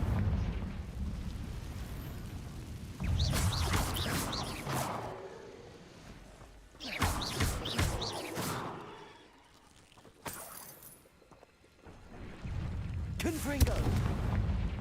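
Confringo explosion spells cast in Hogwarts Legacy, several loud fiery whooshing blasts separated by quieter gaps, with speech nearby.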